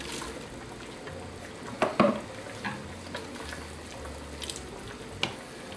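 Roughly peeled, topped-and-tailed okra halves are tipped into a boiling pot of Tunisian ganaouia and stirred. A few soft splashes and clunks sit over a low, steady bubbling hiss.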